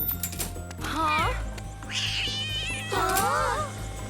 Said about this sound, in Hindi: मालूम है उबैद, मुझे भी यकीन नहीं होता कि ये बिल्ली हेलीकॉप्टर में घुस गई।